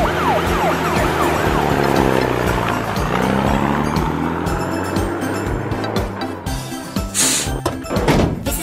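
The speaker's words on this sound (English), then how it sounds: "A red fire truck." A loud electronic toy fire truck siren blares continuously, mixed with jangly music and clattering plastic thumps near the end.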